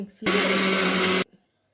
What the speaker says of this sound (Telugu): ఈ గుడ్లు మిక్సీ పట్టింది